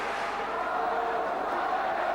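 Australian fans at the Danny Green vs Markus Beyer boxing bout chant back in response, a dense, continuous roar of massed voices filling the arena without pause.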